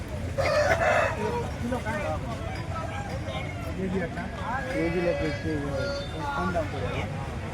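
At a busy Bhadradri Kothagudem hen market, a rooster crows in a wavering, drawn-out call under constant crowd chatter, with clucking hens around it.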